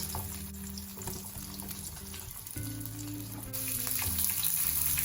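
Capsicum, ginger and onion fry quietly in a pan, giving a soft steady sizzle with low hum and a few faint clinks, growing slightly louder near the end; no voices.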